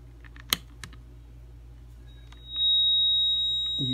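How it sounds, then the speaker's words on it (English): A restored 1942 Zenith hearing aid, switched on with its microphone near a speaker standing in for the earphone, squeals into a steady high-pitched feedback tone that starts midway and holds. A couple of sharp clicks come before it. "you can hear the feedback already"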